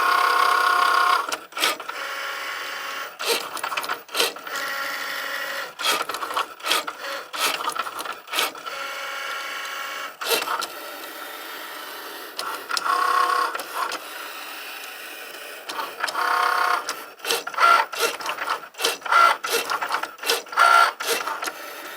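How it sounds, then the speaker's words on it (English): Craft cutting machine slicing around paper vouchers on a cutting mat, a close, repeated mechanical whirring and buzzing that starts and stops in short bursts with brief pauses between them. "we can just hit the go button again and the machine is going to do the cut around each of the vouchers"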